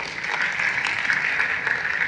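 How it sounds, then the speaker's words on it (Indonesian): Audience clapping at a church seminar, a sustained wash of many hands applauding together, steady and fairly loud throughout the brief moment with no speech over it. "Beri tepuk tangan untuk kebenaran Tuhan."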